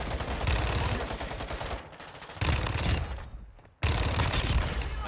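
Sustained rapid automatic gunfire from a 45-round magazine gun in Modern Warfare 2, loud and dense in long bursts separated by short gaps and one near-silent pause.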